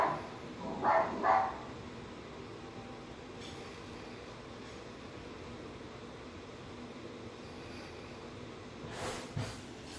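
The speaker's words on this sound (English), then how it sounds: "Alexa, bark like a guard dog." An Alexa skill plays a recorded guard dog barking, two quick sharp barks early on, then a low steady hum and a faint burst near the end.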